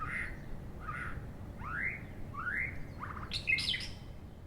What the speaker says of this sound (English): The shama, native to India, is now quite common in many lowland habitats.